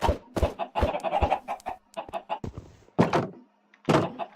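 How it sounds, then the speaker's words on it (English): Short bursts of Minecraft chicken clucking and squawks come in irregular clusters between brief silences, mixed with a few dull thunks, close and moderately loud. "Some of the chickens grew up for one."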